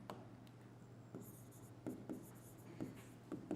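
Pen writing by hand on paper during a maths lesson, quiet scratchy strokes in short bursts over a low steady hum.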